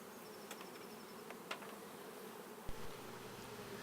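A dense, continuous drone of many honeybees buzzing outdoors as a nucleus colony is transferred into a beehive, steady and close, with a few brief clicks and a low thump near the end.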